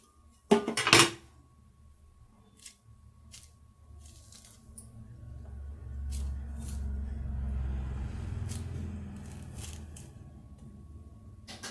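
A knife slices both sides of a sweet lime (sathukodi) on a kitchen surface, with a sharp close clack and cut near the start, then quieter handling and soft scraping.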